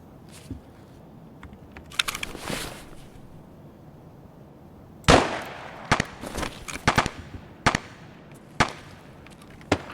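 Gunfire in the shooter game Escape from Tarkov: scattered sharp shots and short bursts, some loud and close, separated by quieter stretches with faint clicks.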